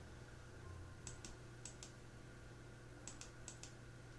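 Computer keyboard typing in a few short clusters of light key clicks, with brief gaps between them, close and quiet over a steady low background hum.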